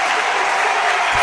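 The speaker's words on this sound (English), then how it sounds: "Crowd roaring their approval for the home team, the Seattle Storm here" A home basketball crowd at a Seattle Storm game against the Aces roars and applauds after a made free throw, a dense, loud, sustained wash of cheering and clapping.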